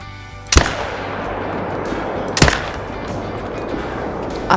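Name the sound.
Zarza .308 rifle shots in theHunter: Call of the Wild video game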